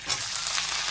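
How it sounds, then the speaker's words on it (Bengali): Lentils, tomato, dry chilli, black cumin, whole garlic and chopped onion fry and get stirred in hot oil in a pan, a loud, steady close-up sizzle with scraping texture. "যে মুসুরির ডাল ধুয়ে নিয়েছি, এখানে যে টমেটো, এখানে শুকনো লঙ্কা, কালো জিরে, গোটা রসুন আর পেঁয়াজ কুচি, এগুলো একটু নেড়ে নিচ্ছি"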